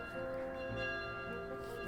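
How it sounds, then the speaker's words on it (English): Bells ringing in the video game The Legend of Zelda: Skyward Sword, a steady, sustained chime with layered tones that holds evenly throughout. "I hear bells."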